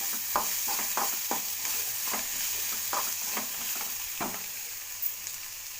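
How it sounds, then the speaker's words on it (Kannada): Cooked black-eyed peas being stirred into masala in a pan, with a steady soft sizzle under repeated scraping strokes of a spoon against the pan, close and moderately quiet, no voices. "ಮೊದಲೇ ಬೇಯಿಸಿರುವಂಥ ಅಲಸಂದೆ ಕಾಳು ಹಾಕಿ ಚೆನ್ನಾಗಿ ಮಿಕ್ಸ್ ಮಾಡ್ಕೊಳ್ಳಿ."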